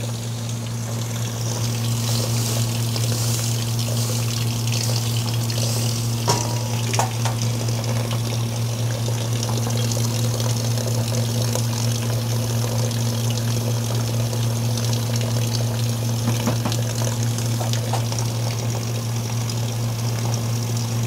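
Water runs steadily into a cooking pot on a stove, a continuous even pour with a low hum underneath, close and unbroken for the whole stretch, with no talking.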